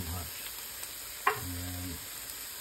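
Garlic and pieces of hot pepper sizzle in a frying pan, a soft, steady hiss with a brief clink of a utensil and a quiet stir partway through.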